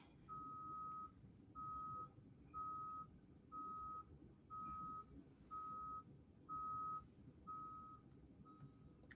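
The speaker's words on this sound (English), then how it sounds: "I hear Shorty's bus." A bus backing up outside gives a faint, distant run of reversing beeps, nine evenly spaced tones about a second apart over a low background rumble.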